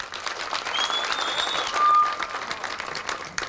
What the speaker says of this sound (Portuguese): Uma salva de palmas para eles e vamos ouvir a palavra desse companheiro. Palma bem grande.